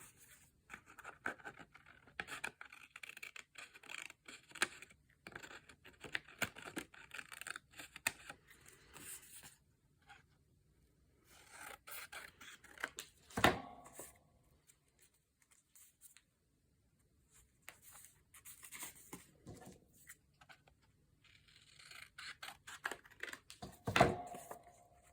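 Scissors trim paper for a handmade junk journal: quiet, sporadic snips and papery rustles in short bursts, with a couple of sharper, louder cuts and near-silent gaps between them.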